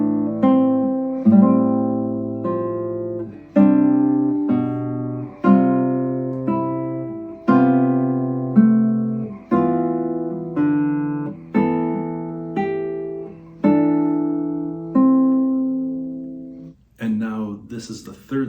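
A sequence of sustained chords, each with a 4-3 suspension where the fourth holds above the harmony and then slips down to the third, played as a steady series of separate chords at an even pace, each held about two seconds.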